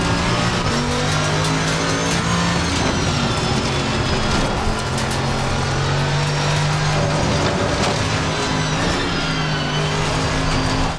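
A race car in the Assetto Corsa video game laps the Nürburgring Nordschleife with a loud, sustained engine drone that rises and falls through gear changes, with faint tire and cockpit rattles underneath and no talking.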